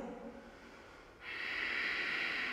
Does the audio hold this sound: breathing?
yes